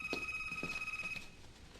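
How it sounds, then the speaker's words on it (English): A household telephone rings in a home where guests are being entertained, a steady electronic tone with repeated pulsing bursts, fairly close and clear, fading slightly near the end with no talk over it. "We never answer the phone while entertaining."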